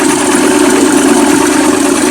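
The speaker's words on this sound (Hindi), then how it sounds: "ये इंजन की स्पीड जरा दिखाएं।" A CNG-converted car engine idles up close, a loud, steady, even drone with no voices over it.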